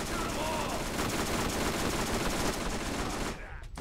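Rapid gunfire in Borderlands, a steady sustained volley of shots rattling for several seconds before cutting off abruptly.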